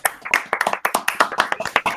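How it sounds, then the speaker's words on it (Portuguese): A small audience gives a short round of applause after a talk on the Bendegó meteorite, with sharp, distinct claps at an uneven rhythm that sound close by and fill the whole stretch. "Uma salva de palmas para o nosso..."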